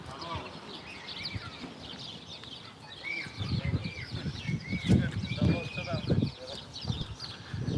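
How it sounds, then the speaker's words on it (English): Many birds chirp and twitter in a tree at a bread market in Samara, Russia, a busy outdoor street with people talking nearby and the calls layered over the crowd noise. "Yes, the bird sounds awesome. Many birds there on a tree."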